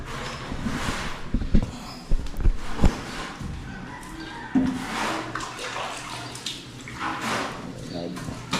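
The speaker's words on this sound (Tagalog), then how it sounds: "Lagyan ng tubig." Water being poured in on a work site, with intermittent splashing and gurgling bursts at moderate loudness, while people talk nearby.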